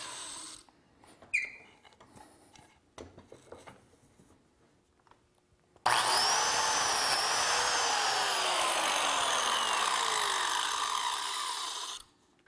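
A biscuit joiner cuts a slot into wood for a small cabinet, a loud steady motor whine with the blade biting in that runs about six seconds and then stops, after quieter handling and clicks.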